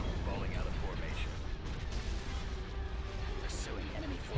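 Laser cannon fire during a space battle at Fondor in Star Wars: Empire at War (Thrawn's Revenge mod), a continuous rumbling barrage of booming blasts with a few brighter zaps, heard under talking.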